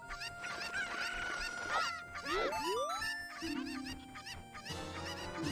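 Chickens cluck and squawk in The Legend of Zelda: Ocarina of Time, repeated bird calls and rising cries layered over game music and effects through the whole stretch.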